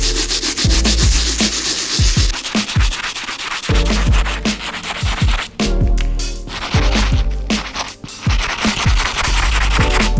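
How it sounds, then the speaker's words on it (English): A stiff bristle brush scrubs the soles of Air Jordan 8 Stealth Orange Blaze sneakers during a restoration, giving close, loud, rhythmic scratchy strokes with brief pauses, and no one speaks. "Now let's use the stiff bristle brush to clean up these soles."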